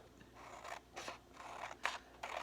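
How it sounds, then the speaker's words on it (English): Scissors snip through a coloring page along a picture frame, several distinct close cuts in an uneven rhythm, quiet and crisp with no voices. "Now I'm getting ready to cut out"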